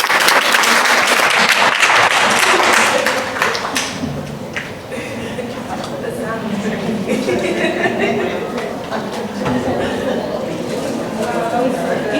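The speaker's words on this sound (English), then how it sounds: "and another round of applause." Audience applause at a COP28 climate press conference, loud and sustained, with dense clapping through the whole stretch, easing a little midway and then picking back up, with some chatter mixed in.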